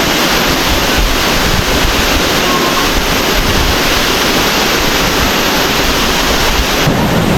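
Steady, dense rush of falling water roaring continuously nearby, broadband and unbroken, with some wind buffeting the microphone.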